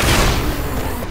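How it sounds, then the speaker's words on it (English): Dense gunfire rattles loudly from a Left 4 Dead 2 co-op match on The Parish campaign, a brief burst of overlapping shots with no talk. "Can you stop shooting me?"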